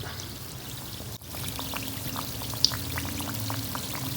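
Atta biscuits fry slowly in gently bubbling oil on a moderate flame, a soft continuous sizzle with scattered small pops and crackles, steady and close.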